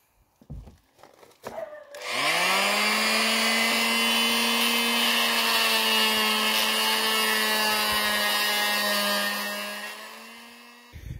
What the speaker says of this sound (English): So I'm just going to cut these off now with the reciprocating saw.